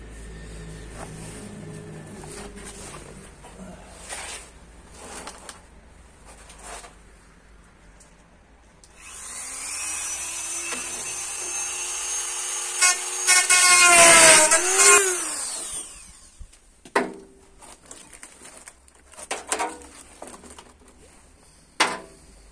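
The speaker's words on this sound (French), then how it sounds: "pour découper ça, je vais utiliser la Dremel." Dremel rotary tool cutting painted material on a Peugeot 106 car project, a high whining grind of about six seconds that swells to a loud peak and then stops, with scattered handling noises before and after.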